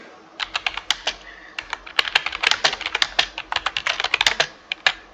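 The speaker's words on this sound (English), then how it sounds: "Ooh, what am I typing?" Fingers typing on a computer keyboard, close and crisp, in irregular bursts of rapid key clicks with short pauses between runs.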